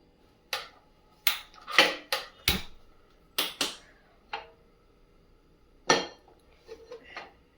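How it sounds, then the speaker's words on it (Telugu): Metal kadai set down and shifted on a stove before frying thin banana slices in oil: a series of sharp clanks and knocks, irregular and fairly close, with quiet pauses between. "ఇప్పుడు మనం స్టవ్ వెలిగించుకొని ఒక కడాయి పెడదాం."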